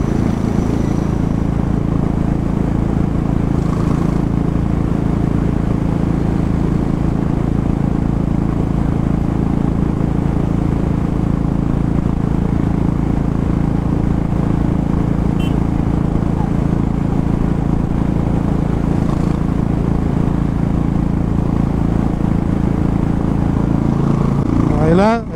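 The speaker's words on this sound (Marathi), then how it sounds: "एवढी मस्तपैकी दुगदुग दुगदुग दुगदुग दुगदुग ऐकून असं मन शांत होतं आहे" A Royal Enfield motorcycle engine drones on the move, a loud, unbroken low rumble with steady wind-like noise over it, lasting the whole way through without any clear talk.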